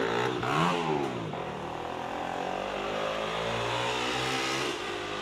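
A motorcycle engine rises and falls as it passes close by on a hillside village road in Italy, a loud revving drone with a shifting pitch that fills the whole stretch.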